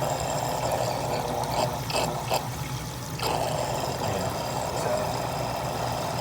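A SICCE Shark ADV 800 aquarium pump runs steadily with a constant hum and a dense wash of bubbling, churning water at the tank surface, continuous and fairly close throughout.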